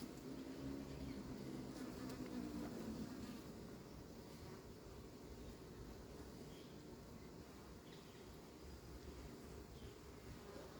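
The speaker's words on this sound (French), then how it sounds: "Tiens, un autre frelon là qui passait autour de la tente." A hornet buzzes around an anti-hornet tent at an apiary, its drone steady and close for the first few seconds before fading into a softer outdoor hum.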